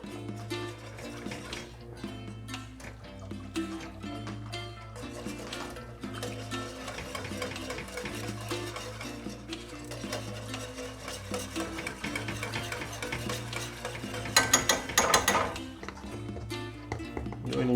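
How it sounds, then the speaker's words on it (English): Soft scraping and light clinks of a whisk stirring gravy for beef rouladen in a pan, steady and low, beneath a constant tonal background with a louder clatter near the end. "We're gonna whisk in."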